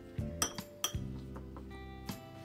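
A utensil clinks against a bowl while salted cucumber is mixed for tzatziki, several sharp, close metallic-glassy taps at an uneven rhythm with soft stirring between them.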